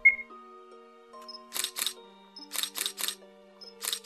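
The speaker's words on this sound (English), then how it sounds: "that shutter noise is hella loud" Camera shutter firing while a picture is taken in a game, with loud, close bursts of clicks in quick pairs and triplets between faint electronic tones and beeps.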